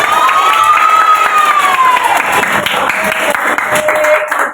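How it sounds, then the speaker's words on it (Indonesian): A classroom of children claps and cheers together in a dense, loud burst of clapping and shouting voices lasting several seconds, with a rising and falling voice line ringing over the noise. "Oke, tepuk tangan buat kita."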